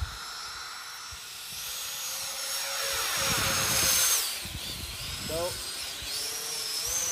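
A 70mm ducted-fan motor on a 3D-printed EDF drone spinning up: a near, hissing high-pitched whine with a rising, wavering pitch, with a brief spoken word at the start.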